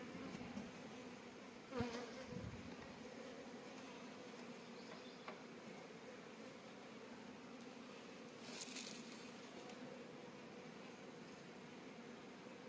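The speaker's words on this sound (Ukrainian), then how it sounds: "Джілка спокійна стала, вся в вулику." Honey bees hum steadily inside a beehive at an apiary, a continuous low buzzing drone heard close up with a few individual bees passing by, no voices present.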